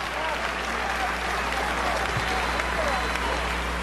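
A large audience breaks into steady, sustained applause at an address by President Barack Obama, the dense clapping filling the whole stretch evenly with no break.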